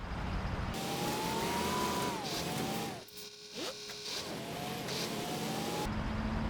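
A truck engine in SnowRunner revs hard while wedged in terrain. The rising and falling revs drop away briefly midway, then climb again with a steady mechanical whine.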